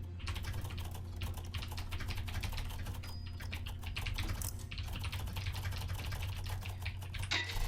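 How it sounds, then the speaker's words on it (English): Rapid, continuous typing on a computer keyboard during a fast-paced typing game, a dense stream of clicking keystrokes over a steady low hum from start to finish. "Started typing too fast."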